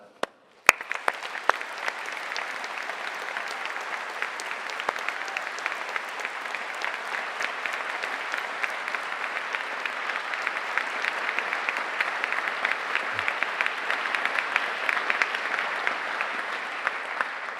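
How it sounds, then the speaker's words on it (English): University graduation ceremony audience giving a sustained round of applause, a steady, even wash of many hands clapping at moderate level that continues for over fifteen seconds after a brief quiet start. "So a big round of applause for them."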